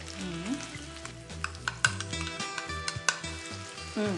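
Crushed garlic and chopped onion fry in a pan with a close, crackling sizzle. Irregular sharp clinks and scrapes of a utensil against the pan break in, and a low drone runs beneath.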